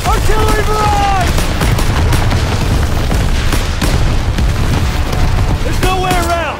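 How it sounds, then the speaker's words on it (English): Artillery barrage in the Call of Duty WWII hill battle, with heavy continuous booming and rumbling explosions filling the whole stretch, and shouted voices rising briefly at the start and end. "Get down! Artillery barrage!"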